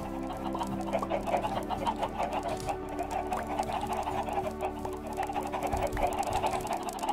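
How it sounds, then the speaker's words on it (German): Chickens clucking in the Minecraft video game, a busy overlapping run of game clucks and bawks repeating steadily throughout, fairly loud and close, with no talk over them. "Gehen wir zu den Hühners."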